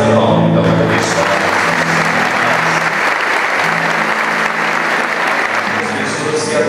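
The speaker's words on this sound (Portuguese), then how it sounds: "Uma salva de palmas, então, para o pessoal." Church congregation applauding together at a parish gathering, a loud, dense, steady clapping that fills the hall for the whole stretch without letting up.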